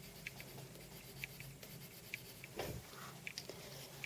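A colored pencil moves over paper in a light layer of soft, close scratchy strokes, a faint continuous patter with small ticks, and no one talks.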